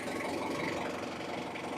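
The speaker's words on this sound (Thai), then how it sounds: "นี่ครับเสียงเครื่องครับนิ่มมาก นะครับ" A 2006 Ford Ranger pickup with a 2.5 engine idles with a steady, low, even rumble, heard close and unbroken throughout.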